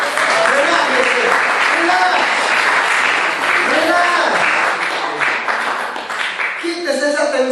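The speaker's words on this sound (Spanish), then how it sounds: "Den un aplauso al Señor, hermano." Church congregation applauding loudly and steadily throughout, a dense wash of clapping with voices mixed in, continuing without a break to the end.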